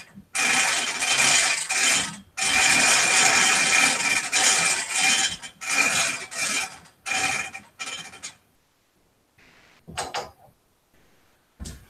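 The uptake roller on a quilting machine is twisted taut with the backing on it: loud bursts of rasping, ratcheting friction repeat in a steady run, then give way to shorter, sparser scrapes and pauses.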